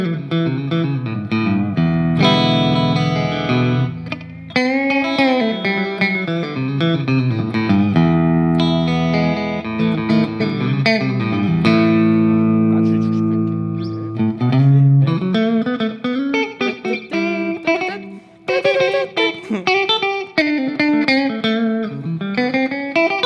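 A Fender American Vintage 52 Telecaster on its middle pickup setting plays a continuous, loud run of chords and melodic lines with some reverb, sounding alone without any talking.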